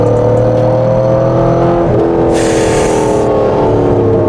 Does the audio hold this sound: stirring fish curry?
no